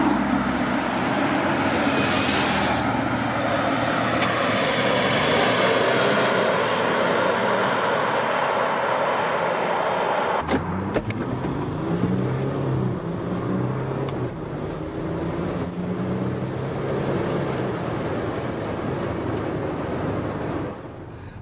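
A Range Rover Sport Autobiography 3.0 TDV6 diesel driving on a road, with loud steady engine and tyre noise and wind rush, a brief clunk midway, then a smoother cruising drone.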